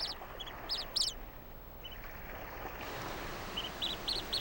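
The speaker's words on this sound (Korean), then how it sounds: "아직 제 몸도 가누지 못하는 녀석은 어미를 찾는 울음소리만 낼 뿐이다" A storm petrel chick about two weeks old, lost on a seaside rock, gives short high chirping calls in brief bursts, fairly near, over steady coastal background noise.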